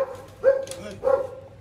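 A dog gives two short barks about half a second apart, moderately close, over a low background hum, with no talking.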